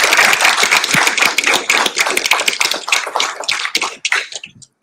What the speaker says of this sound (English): Let's give a round of applause for those who have won our nation's flag.